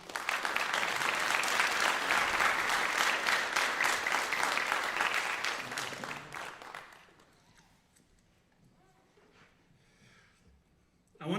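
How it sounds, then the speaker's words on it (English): A graduation ceremony audience applauds a graduate coming up for his diploma, a strong, steady roar of clapping that fades out after about six seconds into a quiet room with faint movement. "Please give Spencer Van Norman a round of applause as he comes up, stands next to me."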